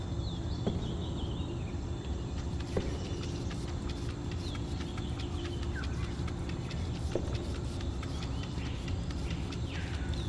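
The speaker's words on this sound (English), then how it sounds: "the bird noises we're hearing are very, like, what you would listen to when you go to sleep." Soft bird chirping ambience from the video game Crime Scene Cleaner: scattered high tweets and calls over a steady low hum, faint and continuous, with no talk.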